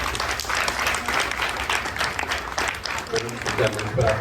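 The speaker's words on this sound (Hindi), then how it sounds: "मैं चाहूंगा जोरदार तालियों से उनका अभिनंदन किया जाए।" An audience claps in steady, sustained applause throughout, loud and fairly close, with a voice speaking over it near the end.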